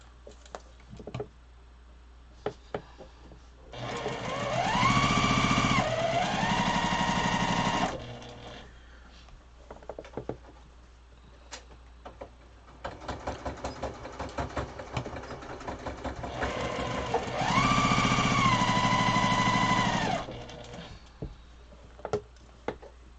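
A sewing machine stitches quilt fabric in two long, loud runs of steady motor whir with rising and falling pitch, separated by quieter handling clicks and rustles.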